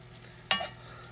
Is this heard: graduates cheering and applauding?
no